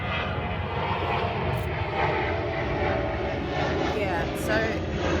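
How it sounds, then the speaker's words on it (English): Aeroplane passing overhead outdoors, a steady broad engine roar that stays loud and continuous throughout, with no talking over it. "Excuse the aeroplane."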